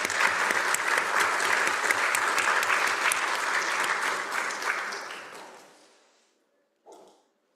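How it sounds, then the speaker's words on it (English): Audience at an annual meeting's opening day breaks into sustained, dense applause that holds for several seconds and then fades out, followed by a brief faint sound near the end. "If we want to give a round of applause."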